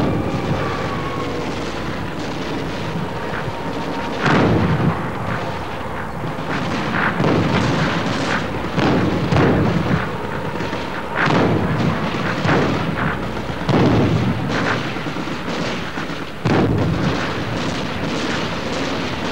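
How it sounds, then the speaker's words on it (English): 82mm mortar shells fired in volleys into hills during a bush war operation, heard as a series of loud, booming blasts spaced every couple of seconds over continuous background rumble, with no talk. "Volleys of 82mm shells were lobbed into the hills ahead of where intelligence sources had indicated an enemy presence."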